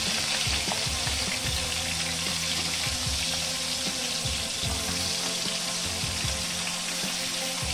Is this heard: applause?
no